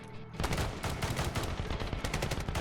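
Gunfire in the Medal of Honor video game: after a brief quiet moment, rapid sustained automatic bursts rattle loudly and continuously, a dense stream of close shots.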